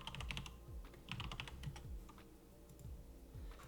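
A password being typed on a computer keyboard: quick, close keystroke clicks in short bursts with brief pauses, faint and alone.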